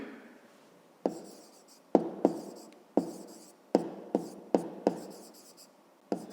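Chalk or pen writing a number on a board in a fifth-grade maths lesson, heard as a series of about nine sharp, separate strokes with short scratchy tails, close and clear with no talk.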